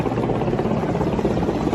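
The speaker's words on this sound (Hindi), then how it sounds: "विक्टोरिया हॉस्पिटल के ऊपर सेना के हेलीकॉप्टर ने फूलों की बारिश की" An army helicopter flies low over Victoria Hospital in Bengaluru during a flower-shower salute, its steady rotor drone and broad engine rumble loud and continuous throughout, with no talk.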